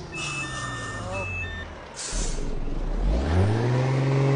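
Truck reversing beeps in the Euro Truck Simulator 2 driving game, steady repeated electronic tones over a rumbling diesel engine that revs up near the end, with a voice talking partway through.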